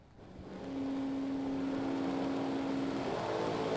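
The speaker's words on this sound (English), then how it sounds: "Here comes the high-winding Achieva. Singing and zinging, trying to get down there" An Oldsmobile Achieva B-modified Super Stocker and a Monte Carlo at a drag race rev up, a steady high-winding engine drone rising from about 0.7 s and holding loud and constant to the end.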